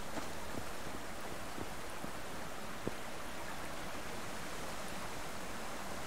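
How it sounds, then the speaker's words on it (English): A big waterfall in the video game Subsistence roars as a constant, even rush of water, heard from a distance with faint splashy flickers throughout and no talk. "And there's a big waterfall right up there."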